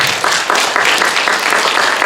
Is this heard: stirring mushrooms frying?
no